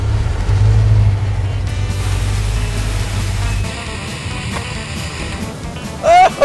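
A blown Jaguar-powered rat rod idles with a deep, steady engine rumble that drops away partway through, leaving quieter mechanical and road noise with brief sounds near the end.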